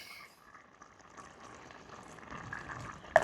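Tinned chopped and vine tomatoes with herbs simmering in a pot in a railway tunnel, a faint, soft bubbling that grows slightly busier, ending in a sudden sharp clink.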